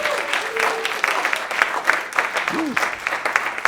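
An audience at a Martin Luther King tribute concert gives a short round of applause for a bass player, uneven clapping with a few louder claps, while voices carry on over it.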